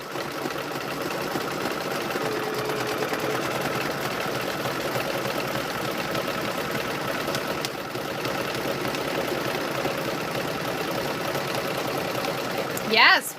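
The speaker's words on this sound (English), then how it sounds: "You can start embroidering." An embroidery machine stitches a quilt square with a steady, even mechanical whir that runs throughout, ending with a brief louder clatter near the end.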